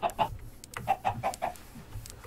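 Chickens in Minecraft cluck in a quick run of short, clipped calls, fairly close and clear, with no voices over them.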